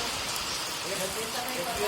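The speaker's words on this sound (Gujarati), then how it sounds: "વરસાદ એકદમ રાતનો ચાલુ ને ચાલુ વરસાદ છે" Steady rain patters down continuously, a soft broadband hiss with faint drips, while a person talks over it; the rain has fallen nonstop through the night, on its third day.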